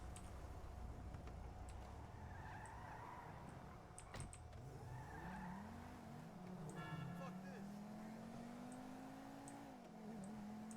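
Car in the FiveM GTA roleplay game, an engine hum rising and falling in pitch as the vehicle pulls away and drives, with a whirring electric whine midway, faint under the game's background tones.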